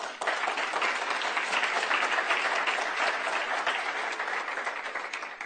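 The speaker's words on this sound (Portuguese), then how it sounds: "Palmas, por favor." A steady, dense round of applause from an audience greets a senator arriving on stage for a debate. The clapping is even and sustained throughout, with no talk over it.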